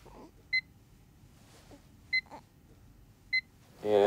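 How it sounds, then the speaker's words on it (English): Three short, high electronic beeps sound at spaced intervals over a quiet hiss, followed by a brief louder noise at the end. "I'm only getting loud beeps"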